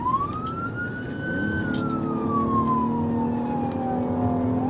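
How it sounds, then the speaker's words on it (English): A police car siren during a chase, loud and close, with one long rising then slowly falling wail over a rumbling engine, heard alone. "light sirens were activated"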